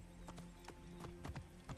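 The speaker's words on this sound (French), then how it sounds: "Un cheval envoyé par le chacal?" Horse hooves clip-clopping in Assassin's Creed Origins, the Curse of the Pharaohs expansion, a series of soft, irregular hoof thuds over a faint ambient game hum, with no talking.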